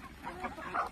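A desi village rooster gives a few soft, close clucks, faint and brief.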